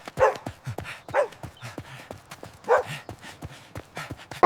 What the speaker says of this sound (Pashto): هغه به پر دروازو غاپه